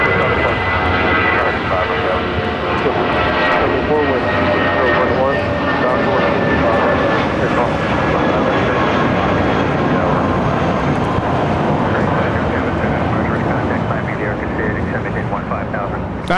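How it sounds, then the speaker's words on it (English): A Spirit Airbus A320 jet takes off at LAX with a loud, sustained engine roar that holds across the whole stretch, with voices talking underneath. "That was Spirit 507 taking off to Las Vegas on an A320"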